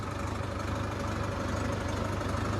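A Sonalika 60 DI 4x4 tractor engine runs steadily during wheat sowing, a low, even mechanical drone with a faint rhythmic throb, heard alone at moderate distance.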